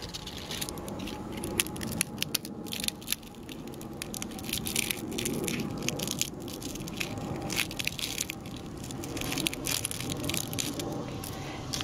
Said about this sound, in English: this is what a dead one sounds like